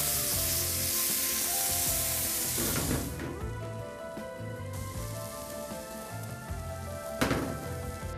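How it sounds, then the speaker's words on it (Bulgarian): Pork fat sizzles and spits in a hot pan, a dense, crackling hiss that is loudest at first and then settles into a softer, steady fry with a few sharper pops. "Първо нагорещяваме тигана и към него прибавяме малко свинска мазнина."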